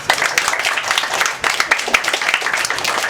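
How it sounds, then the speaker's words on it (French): An audience applauding at a school event, steady dense clapping throughout with several sharper bursts, no voices over it. "Applaudissez pour les services."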